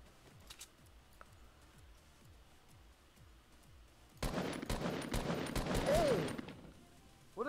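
Rapid gunfire in Fortnite: a faint stretch of quiet clicking gives way to a dense burst of shots in the second half, then a brief sharp crack at the very end.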